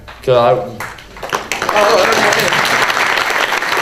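A panel audience at a community musician discussion breaks into applause just after a short burst of voice, the clapping then swelling into a dense, sustained patter that carries on to the end.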